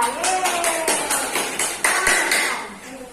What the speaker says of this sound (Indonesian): beri tepuk tangan buat Nala